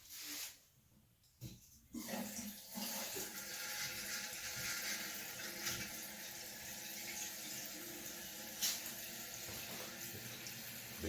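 Water fills a newly installed toilet with a continuous rushing, gurgling hiss after a brief quieter moment at the start, close and steady throughout, with no talking.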